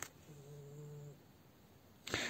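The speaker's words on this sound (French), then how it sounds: "là, je suis avec le chat" A cat gives a single faint, soft drawn-out meow close by in a quiet room, followed by a sharp brief noise at the end.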